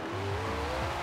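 Koenigsegg hypercar in Forza Horizon 4 held at full throttle on a short circuit, a steady loud engine drone with a sustained low tone and a rising pitch line throughout, alone without talk.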